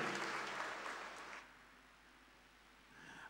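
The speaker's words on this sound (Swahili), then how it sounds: "Alafu mpigie Bwana makofi mengi ya shangwe." A church congregation claps and applauds with joy, a dense burst of hand claps that fades away after about a second and a half, leaving quiet room tone.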